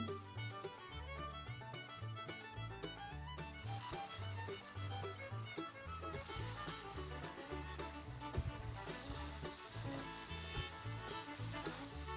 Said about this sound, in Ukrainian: Сковорідка вже нагрілася. Викладаю котлетки.